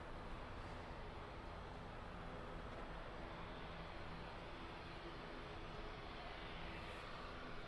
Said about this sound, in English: Another Aer Lingus ATR lining up.